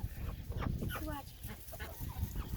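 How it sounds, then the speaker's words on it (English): Chickens on a farm cluck and call softly in short bursts at a moderate distance, with faint voices of people talking in the background. "There's a chicken."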